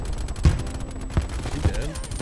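In the Call of Duty Cold War video game, a War Machine grenade launcher fires three heavy, booming thuds spaced about half a second apart over a background of in-game noise.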